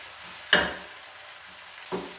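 Onion dropped into a hot pan for fried chicken curry, giving a sharp burst of sizzle, then a quieter hiss and a second, smaller crackle about a second and a half later.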